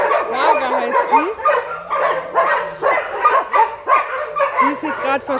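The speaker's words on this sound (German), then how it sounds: "Da sind gerade neue Hunde rausgelassen worden." Several dogs in a shelter bark and yip close by in quick, overlapping bursts, keeping up a busy racket, with a voice talking among them.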